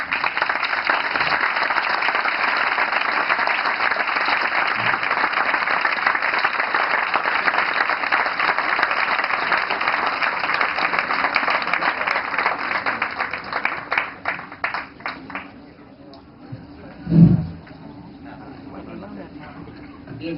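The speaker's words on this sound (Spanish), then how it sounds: "aplauso" An audience at a lecture on Pope John Paul II gives sustained applause to welcome the speaker, steady dense clapping for about fourteen seconds that thins out and fades, followed by a brief thump and quiet room.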